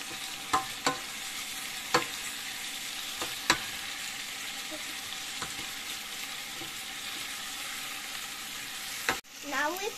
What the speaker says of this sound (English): We're gonna saute it for 3 minutes.